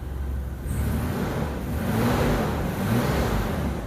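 Engine of a 1994 Isuzu Rodeo that is running rich and rough, revved steadily and loudly for several seconds, with a sustained low rumble that swells slightly midway.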